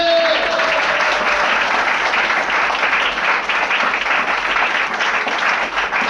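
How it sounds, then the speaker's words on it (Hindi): Loud, sustained clapping from a large church congregation, dense and continuous throughout, with a voice faintly audible at the start. "ताली बजाकर धन्यवाद दे"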